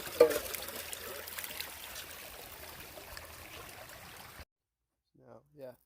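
Water trickling and splashing outdoors as it is fetched for washing gear in a survival setting, a steady broadband wash for about four seconds that then stops, followed by brief speech.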